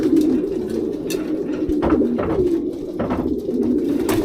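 Young racing pigeons coo in a loft in winter after their moult, with repeated soft, low, throaty coos close by and a few brief rustles or taps between them.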